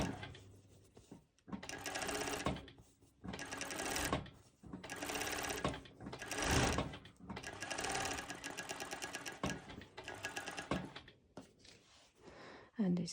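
A sewing machine stitches fabric on a cover stitch, running in roughly half a dozen quick mechanical bursts separated by short pauses, close and clear.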